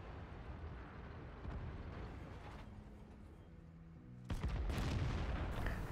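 Tank cannon firing in the World of Tanks video game: a muffled game rumble, then a sudden loud boom about two-thirds of the way through, followed by a rolling, sustained blast that stays loud to the end.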